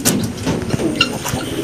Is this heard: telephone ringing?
no